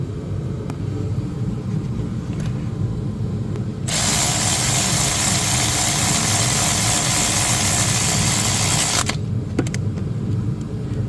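A power tool whirs steadily for about five seconds while tightening spark plugs on a Mercedes W166 ML350, standing out loud and close over a constant low engine-like hum that continues before and after.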